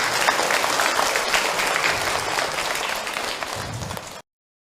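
Sustained applause from an audience at an Islamic talk, a thick, even roar of clapping that tapers slightly before cutting off abruptly near the end.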